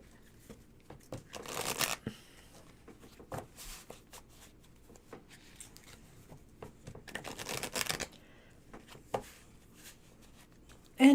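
A deck of cards being shuffled in a few quick riffling bursts, with soft handling noises and light taps between them, close and fairly quiet.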